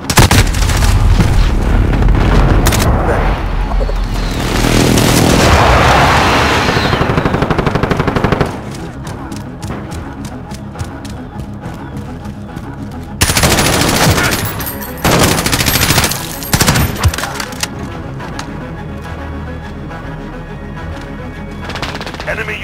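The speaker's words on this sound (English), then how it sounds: "Enemy precision airstrike it." Precision airstrike explosions and gunfire in Call of Duty Modern Warfare team deathmatch: loud booms and bursts of rapid automatic fire, with dense clusters of shots and heavy blasts.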